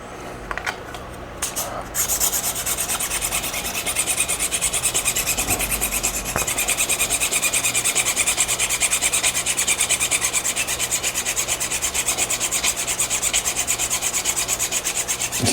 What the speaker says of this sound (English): Alright, so I'm gonna sharpen it a little more.